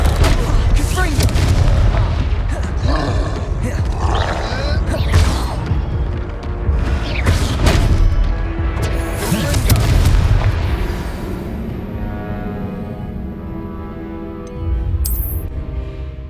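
Confringo spell blasts in the Hogwarts Legacy video game, fired during a fight in Hogsmeade: a loud series of booming explosive bursts and impacts, dense and overlapping, with a character's voice speaking among them.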